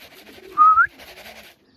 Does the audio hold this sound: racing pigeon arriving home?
yes